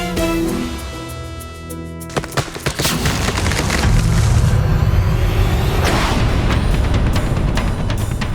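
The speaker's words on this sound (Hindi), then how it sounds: "अरे, ये प्रतिमा का भाग अकस्मात कैसे गिर गया?" Part of a statue suddenly cracking and breaking apart, a quick cluster of sharp splintering snaps followed by a heavy booming crash and rumbling debris, loud and sustained over a dramatic musical backdrop.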